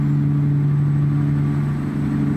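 A truck engine in the American Truck Simulator video game holds a steady, loud low hum with a constant drone and no speech.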